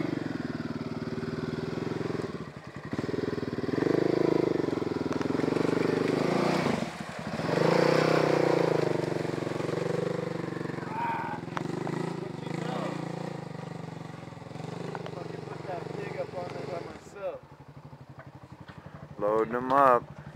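Yamaha Banshee ATV engine revving and droning over a dirt trail, a loud buzzing two-stroke note that rises and falls, heard under nearly continuous talking.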